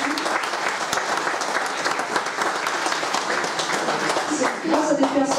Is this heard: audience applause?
yes